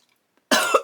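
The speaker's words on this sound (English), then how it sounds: "I'm having a coughing fit." Two harsh coughs after a brief silence, close and loud, the second one short and abrupt.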